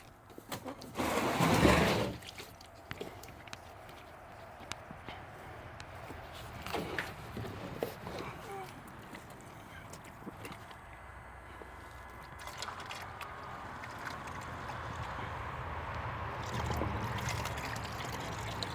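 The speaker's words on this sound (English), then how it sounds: "So I'll just pour some in the bucket in the meantime." A cheap electric fuel pump pours fuel into an unvented bucket, a faint steady trickle and hum running throughout, interrupted early by a louder rustling burst and a few clunks.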